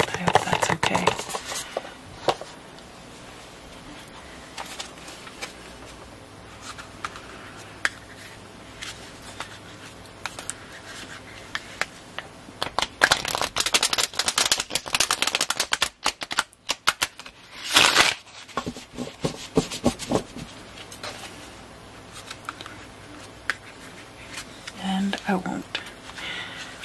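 Mermaid tarot cards are handled and shuffled in a close, hushed ASMR setting, with crisp riffling flutters and snapping card sounds, the busiest burst in the middle, alongside soft talking.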